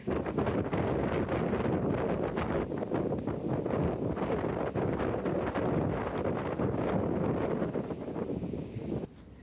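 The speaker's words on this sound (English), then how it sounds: "it's a little bit windy" Strong, steady wind buffets the microphone beside the Hampshire Avon, a loud continuous rumble with rustling gusts that eases slightly just before the end.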